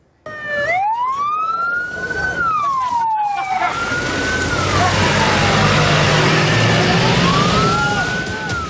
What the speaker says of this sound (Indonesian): Raungan sirina mobil pemadam kebakaran dari tim posko gabungan Karhutla Kabupaten Kotim hilir mudik menuju lokasi kebakaran